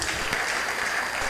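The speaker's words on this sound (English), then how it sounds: "One big round of applause," A college audience at a women empowerment cell event breaks into a brief, steady burst of applause, dense and fairly loud throughout.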